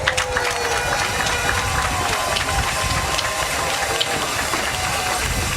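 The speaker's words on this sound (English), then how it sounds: "Let's give them a round of applause." Steady, dense applause from a large audience at a national swimming championship opening ceremony, a continuous wash of clapping with crowd noise that holds at an even level throughout.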